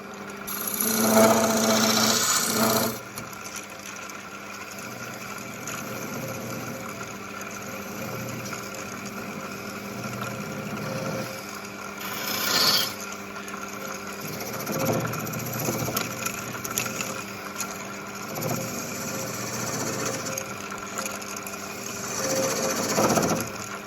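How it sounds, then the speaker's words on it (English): A skew chisel ground from a planer blade cuts wood on a turning lathe while making captive rings: a steady mechanical hum with repeated scraping, shaving bursts at close range, fairly quiet overall. "remove the centre, we'll use a skew chisel"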